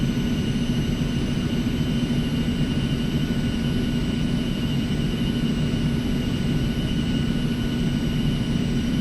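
Steady whining jet engine drone with low rumble from an Eclipse 550 light business jet taxiing out at San Diego in the X-Plane 11 flight simulator, continuous and even throughout with no talk.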